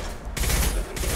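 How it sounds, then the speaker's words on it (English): Mass Effect 2 rocket turrets fire in bursts, two loud, broad crackling blasts with a brief gap between them, sounding like distant heavy weapons fire. "those are rocket turrets in the distance, if you couldn't tell."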